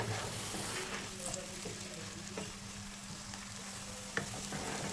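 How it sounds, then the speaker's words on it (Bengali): Onions frying in a pan over a medium-high flame for a lote fish jhuri, giving a steady, fairly loud sizzle with a few scrapes and stirs of a spoon and one sharp clink near the end. "দেখুন পেঁয়াজগুলোকে হালকা লালচে করে ভেজে নিয়েছি"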